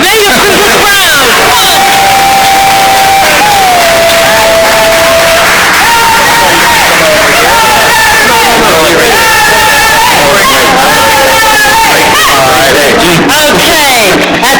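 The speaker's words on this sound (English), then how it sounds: "Wendy, let's hear a little cheer for our people who have made it through this round" An audience at an adult literacy spelling bee cheers and claps for contestants who made it through a round, a loud, dense burst of whoops and applause with voices mixed in that stays full throughout.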